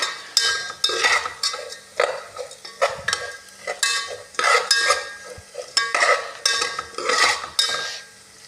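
Ingredients for Muslim-style sheer khurma are roasted and stirred in a pan, with repeated scraping strokes of a utensil in a steady rhythm over a light sizzle, close and fairly loud.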